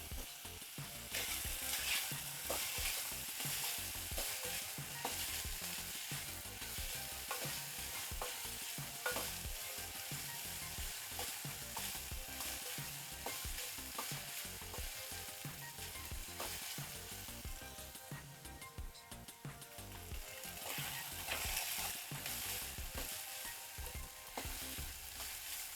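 Tomatoes with a little salt fry in a pan, making a dense, loud, continuous sizzle with rhythmic scraping and clicking as a spoon stirs them.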